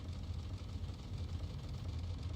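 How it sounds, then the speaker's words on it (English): A Terrapin vehicle engine in a video game chugs low and rough like a diesel struggling to start, a steady fluttering rumble with faint rhythmic knocking and no talk over it. "It sounds like a diesel engine trying to start"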